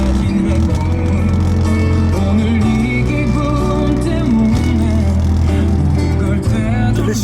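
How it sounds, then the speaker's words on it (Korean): Music played loud through the worn, hardened subwoofer speaker of a Lexus LS430 car audio system, a heavy bass line that buzzes and rattles throughout the dense track. "스피커가 우퍼가 떠는 증상이 있습니다"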